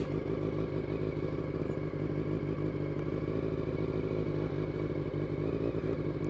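A 1989 Honda CBR400R four-cylinder motorcycle engine runs steadily up close with a smooth, buzzy drone and a bright, treble-rich edge. It holds an even level throughout with no voices.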